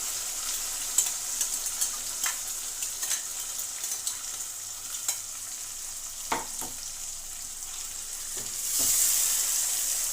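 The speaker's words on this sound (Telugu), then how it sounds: "ఇందులో మనం మిక్సీ వేసి పెట్టుకున్న టమాటా పేస్ట్ వేసేద్దాం" Blended tomato and green chilli paste frying in a pan for tomato rice, a steady close sizzle with brief crackles and stirring scrapes, growing louder and hissier near the end.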